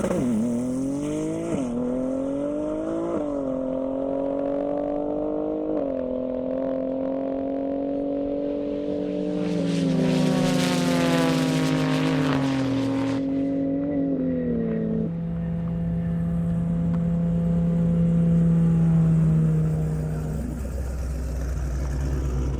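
Porsche Turbo S at full throttle down an airstrip, engine climbing through several gear changes with a stepped rising whine, then passing close and fading into the distance, no talk.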